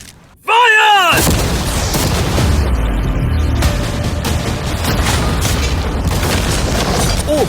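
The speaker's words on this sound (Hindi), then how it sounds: "अब हम तुम्हारी नई यॉट पर कैनन्स को शूट करने वाले हैं" Cannons fire at a new yacht and its storage containers: a sudden loud boom opens, followed by a sustained roaring blast and rumbling debris noise that continues for several seconds.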